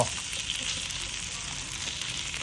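Pork grilling on a Thai moo kratha grill pan, a steady close hiss and crackle of sizzling fat and meat throughout, with faint background voices.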